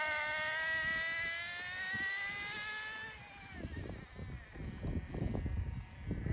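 A Team Associated NTC3 1/10 nitro RC car engine gives a high whine that winds down, then settles into a rough, sputtering idle nearby, with no talking.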